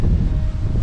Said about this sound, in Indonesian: Cuma anginnya memang cukup kencang ya.